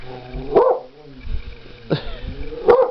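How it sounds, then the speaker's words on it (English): A dog barks a few times with pauses between, fairly close, a couple of sharp barks with gaps of quiet panting or shuffling. "definitely barking at a cat for you"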